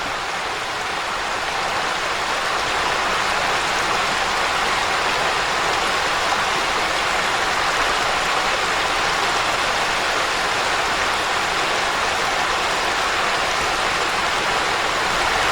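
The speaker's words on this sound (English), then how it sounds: "Oh, there's a neat little mini waterfall" A small mini waterfall on a creek pours in a steady, even hiss of rushing water, close and continuous with no other sounds.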